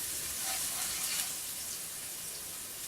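Garlic fries in olive oil in a pan, giving a soft, steady sizzling hiss that stays faint and even throughout.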